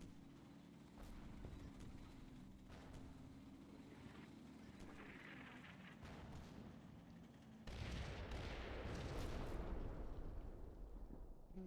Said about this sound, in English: we see some nice big rounds hitting over there